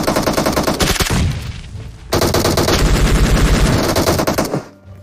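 Rapid automatic gunfire in the Ironpro shooter game, loud close bursts that cut out briefly near the two-second mark, then resume in a long sustained stream before trailing off at the end.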